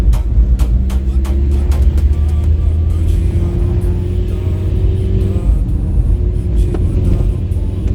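A rally car with faulty brakes drives on cold forest roads, its engine droning loud and steady with a rising tonal whine, rough rumbling and scattered knocks from the road throughout.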